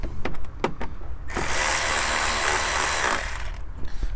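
A Milwaukee impact gun loosens a size 8 bolt on a Chevrolet: a few quick clicks and taps, then a loud, steady buzzing hammer lasting about two seconds before it winds down into more clicks.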